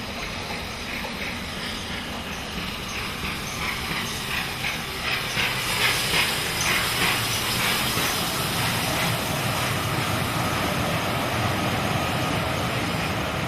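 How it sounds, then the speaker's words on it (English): Great Western King-class steam locomotive hauling the Torbay Express, a loud steady hiss of steam with rhythmic exhaust chuffs rising midway, heard up close with no talk. "the rousing sight of a mighty Great Western King-class loco"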